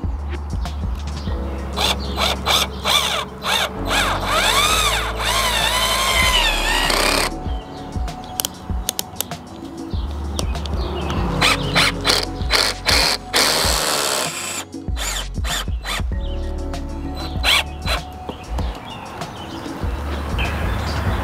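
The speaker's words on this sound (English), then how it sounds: "start screwing this thing in" A screwdriver or drill drives screws while a MaxxFan Deluxe vent fan is installed on a teardrop camper, giving repeated whirring bursts with sharp clicks and stops in between, close and fairly loud.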